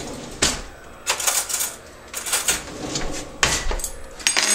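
Metal spoon clanking and scraping against a pot while leftover cinnamon sugar is stirred into milk, a string of sharp irregular knocks spaced about a second apart, close and clear without speech.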